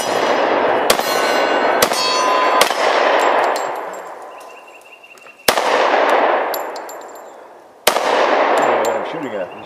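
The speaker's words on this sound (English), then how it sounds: "I'm shooting 200 grain ammo because I just have some of it that I ordered by mistake" Glock 30S pistol firing 200 grain .45 ammunition outdoors, several loud sharp reports spaced irregularly with long ringing echoes, some close-spaced shots, and faint voices in the background.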